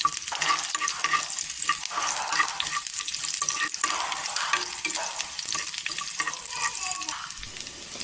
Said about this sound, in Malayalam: ചെറിയുള്ളി കറിവേപ്പില ഉലുവ ഇതെല്ലാം കൂടെ ഒന്ന് വറുത്ത് ചേർത്ത് കൊടുക്കണം